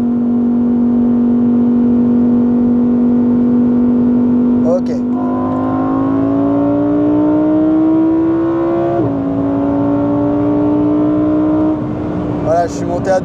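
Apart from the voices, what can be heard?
powerful sports car engine accelerating at high speed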